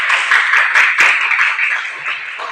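A classroom of students claps for their own groups, loud and close, with a continuous mass of hands that carries some sharper individual claps and fades slightly toward the end.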